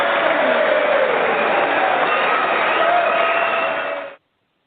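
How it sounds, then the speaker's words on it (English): A crowd of people cheering for a no-deal Brexit, a continuous loud roar of voices and shouts, heard thin and band-limited as if over a broadcast, ending abruptly. "you could hear the cheer of people really wanting a no-deal Brexit"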